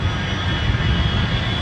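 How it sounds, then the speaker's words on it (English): A steady, loud roar of an Airbus jet airliner's engines comes from American Flight 1 landing at Los Angeles on runway 24 left, a dense, unbroken rumble with no talk. "American Flight 1 is arriving in Los Angeles"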